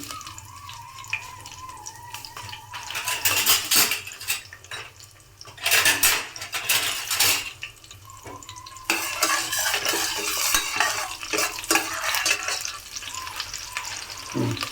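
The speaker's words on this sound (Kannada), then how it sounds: "ಈಗ ಮೆಣಸಿನ್ಕಾಯಿ ಹಾಕ್ಕೊಳ್ಳೋಣ" Green chillies and spices being stirred and fried in a pan for green gram pulao, with soft sizzling under repeated bursts of a spoon scraping and clattering against the pan, no voices.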